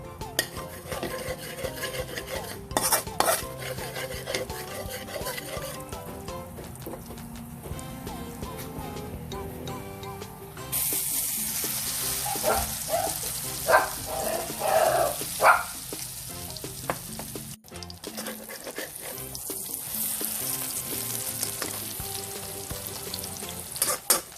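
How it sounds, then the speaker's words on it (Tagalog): Eggplant fries in oil in a cooking pan, giving a continuous crackling sizzle that surges louder partway through, with occasional clinks and a voice talking now and then. "sisimulan na natin magprito. Ito na rin yung ginamit kong cooking pan at oil sa pagpiprito ng ating eggplant."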